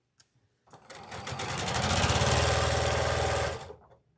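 Sewing machine stitching a patchwork quilt, a steady rapid mechanical chatter that starts after a few clicks, runs for about three seconds, then stops, close and clear with no talking.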